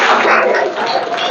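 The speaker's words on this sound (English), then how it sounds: "So, friends, clapping for her." Audience applause for a student's speech on the importance of English, a steady wash of clapping from a crowd lasting over a second, loud and continuous with no talking.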